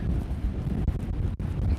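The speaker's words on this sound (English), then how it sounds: "It is windy as hell." Strong wind buffets a microphone outdoors on a trail, a steady, loud, low rumble with gusty fluctuations and brief dropouts throughout, with no voices.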